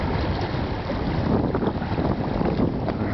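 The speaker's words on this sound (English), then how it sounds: "sound of the waves coming in off Lake Baikal." Waves rolling in off Lake Baikal at a lakeside camp, a steady broadband wash of water mixed with gusting wind buffeting the microphone, continuous and fairly loud throughout with no voices.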